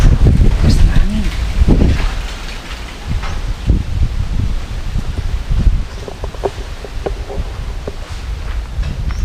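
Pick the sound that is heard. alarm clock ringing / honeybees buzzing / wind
wind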